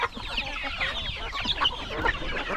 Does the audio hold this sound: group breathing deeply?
no